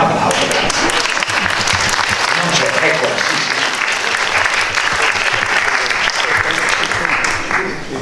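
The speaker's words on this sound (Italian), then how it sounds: "Grazie, un applauso." Audience applause fills a theatre during a season presentation: dense, sustained clapping from a large crowd that runs the whole length and eases slightly at the end, with a voice speaking over it.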